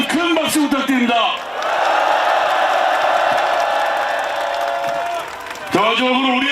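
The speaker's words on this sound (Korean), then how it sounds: "이재명 대표님께 힘내시라고 다시 한번 큰 박수 부탁드립니다" A large crowd at a South Korean political impeachment rally bursts into loud, sustained applause and cheering for several seconds, with a speaker's amplified voice before and after.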